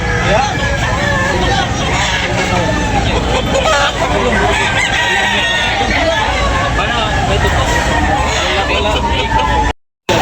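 Gamecock roosters crowing repeatedly at a rooster market, over a noisy backdrop of crowd chatter and general bustle.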